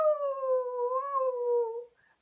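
Single long, mournful dog howl, smooth and wavering, held for nearly two seconds before fading out, with a faint high note after; likely a voice imitating a sad dog.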